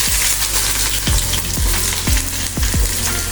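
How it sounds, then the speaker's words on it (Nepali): Onion fries in hot oil with a loud, close crackling sizzle, punctuated by several regular thumps of stirring or scraping against the pan. "अब यसमा हामीले यो प्याज राख्नेछौँ। देख्न सक्नुहुनेछ पुरै तातिसकेको छ।"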